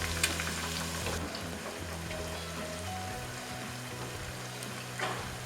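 Ginger chicken pieces fry steadily in a pan, giving a continuous moderate sizzle with faint stirring scrapes, nearby and without talk.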